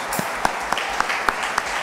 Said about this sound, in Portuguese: Você quer aplaudir o Senhor?